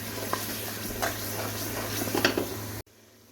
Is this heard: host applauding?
no